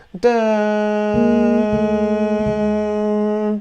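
A sustained low tone holds while a second instrument plays notes that step down one by one, each a short separate note, clear and close.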